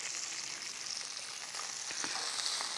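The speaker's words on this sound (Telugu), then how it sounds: "దీన్ని ఈ సైడ్ రోస్ట్ చేస్తాను," Chicken pakodi pieces roasting in a pan after salt is added, giving a steady close sizzle and hiss of hot oil with a few soft stirring clicks, and no talking.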